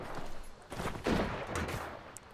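Gunfire crackles during a Deadside video game match. Several rapid shots sound in quick bursts, muffled and at a moderate distance, over a noisy background.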